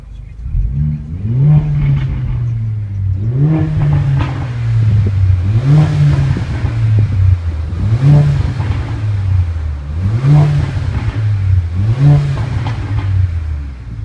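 Mercedes A45 AMG engine revving repeatedly, rising and falling in about five loud, close pulses roughly every two seconds, with a steady deep rumble between them.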